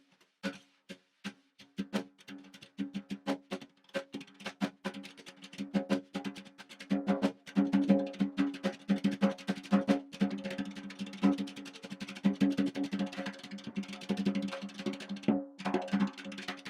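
Rapid-fire tap dancing in the style of Bunny Briggs, with quick clusters of light percussive foot taps and scrapes that quicken and grow denser, moderately close and alone without talk.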